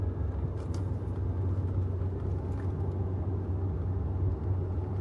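A Tesla car drives along a road, giving a steady low engine-and-tyre rumble with road hum throughout, fairly loud and even, with no talk over it.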